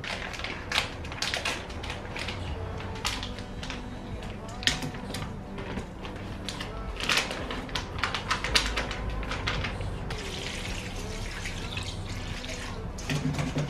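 Lukewarm water pours and splashes into a salad bowl at a kitchen sink, a steady close trickle with clatter and brief bursts of louder running water.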